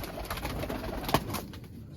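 Pigeons coo softly inside a coop, a few faint, low, rounded calls over quiet background rustle with no talk.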